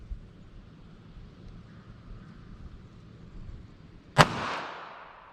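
.380 ACP American Gunner round fired from a short-barrel handgun about five yards from the target: a single sharp, loud outdoor report with a ringing decay, after a few seconds of quiet wind-filled background.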